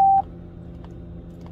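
The aftermarket alarm device on a 2002-2006 Toyota Camry gives one short, sharp electronic beep, followed by a quiet low hum.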